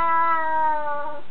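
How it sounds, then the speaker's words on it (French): An unhappy cat gives one drawn-out, plaintive meow, close and clear, alone for just over a second. "Mon chat est vraiment très très malheureux."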